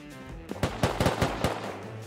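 Bursts of AK rifle fire in the video game Rust, about five sharp shots spaced irregularly over a couple of seconds, loud and punchy against a low background.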